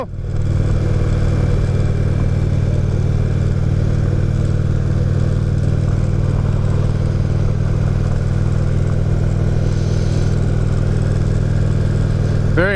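A 2016 Indian Roadmaster motorcycle cruises at steady speed, its engine droning loud and constant beneath rushing wind for the whole stretch, with no clear changes in revs.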